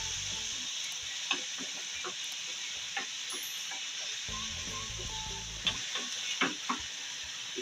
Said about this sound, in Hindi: ऑयल गरम हो चुका है, अब इसके अंदर कीमा डालेंगे।